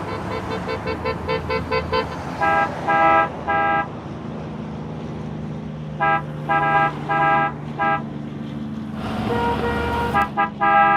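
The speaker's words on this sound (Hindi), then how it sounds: "अरे गाड़ी का हॉर्न सुनाई नहीं दे रहा क्या?" Repeated car horn toots in short bursts, several quick honks in groups with pauses between, over a low steady traffic rumble.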